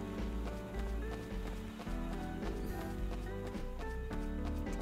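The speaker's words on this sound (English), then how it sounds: "I'm in charge of this horse" Horse sounds from the video game Lost Kingdoms 2, steady hoof clip-clops and a possible whinny set against a continuous dense musical score that fills the whole clip at even loudness.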